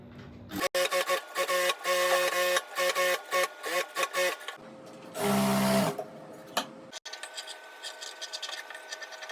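A sewing machine stitching a blouse runs in loud, close bursts of rapid mechanical whirring and clatter, stopping and restarting several times with brief pauses between runs.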